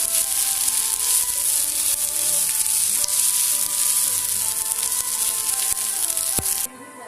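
Hot oil sizzling and frying prawn manchurian with green chilies, a loud, steady, dense crackle close by that runs without a break for most of the clip before dropping off sharply near the end.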